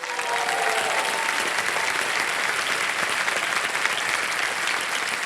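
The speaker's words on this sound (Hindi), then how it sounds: "ताली बज जाए।" A studio audience claps steadily on the quiz show Kaun Banega Crorepati, a dense, even wash of applause that holds loud and unbroken throughout.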